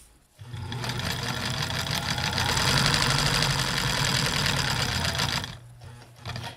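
Kenmore sewing machine with a Q-foot presser foot stitching stretchy, non-cotton fabric: a steady, loud mechanical whir with a fast rhythmic needle chatter running for about five seconds, starting and stopping cleanly.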